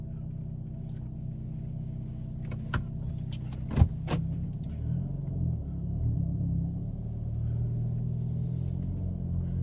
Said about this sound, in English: This is an Elantra N.